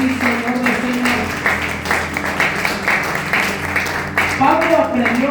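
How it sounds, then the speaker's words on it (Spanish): Congregation applause during a Spanish-language church sermon, a mix of clapping and cheering voices that continues under music and talk, moderately loud and steady. "Dale un aplauso fuerte al Rey de Reyes y Señor de Señores."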